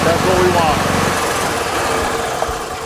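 A gas golf cart's engine running close by, a steady low rumbling drone with a rapid chugging pulse, louder at the start and easing slightly, with no talk over it.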